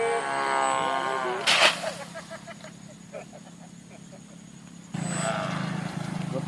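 A homemade wind-driven propeller toy plane, shaped at the front like a Cessna, drones like an engine with a steady rising and falling hum, broken by a sharp burst of wind noise and a voice speaking.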